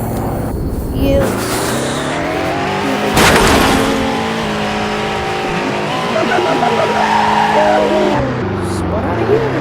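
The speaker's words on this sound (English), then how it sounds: "It's got so much horsepower that it just spins." A high-horsepower sports car spinning its wheels: a loud, close engine roar with rising and falling revs and squealing tires, under faint talk, with a sharp burst of noise partway through.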